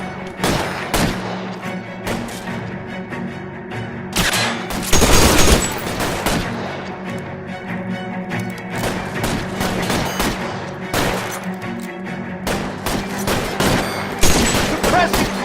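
Sustained gunfire in the LA Noire shootout at Nicholson Electroplating, with dense automatic bursts and repeated loud shots, close and continuous throughout with brief louder volleys.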